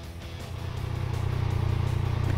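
A steady engine drone with a low rumble that builds slightly, a 2022 Triumph Speed Triple 1200 RS cruising along at speed, with no talking.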